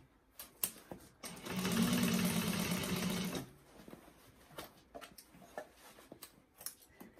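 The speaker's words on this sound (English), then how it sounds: "don't sew over your clip like me again" A sewing machine stitching a fabric bag runs in one steady buzzing burst of about two seconds, framed by scattered clicks and handling taps of the fabric and machine nearby.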